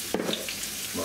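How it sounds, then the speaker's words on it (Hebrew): Onion rings dropped into hot oil in a pan, a brief bright sizzle and crackle with a light stirring clatter, close up and without talk. "אחר שהשמן יתחמם אני שופך עליו את טבעות הבצל."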